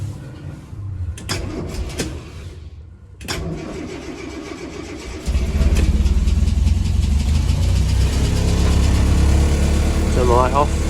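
Vintage Land Rover with a 2.25 petrol engine on choke cranks in short bursts, catches around midway, then settles into a loud, steady idle close by, with some faint clunks early on.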